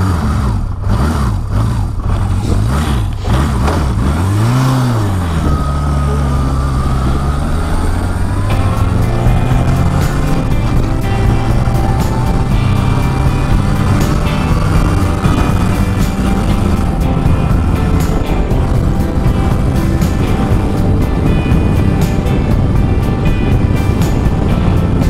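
A Yamaha XS1100 motorcycle with no idle is revved continuously, its loud engine note swooping up and down through repeated throttle blips, then holding a wavering drone mixed with heavy wind buffeting.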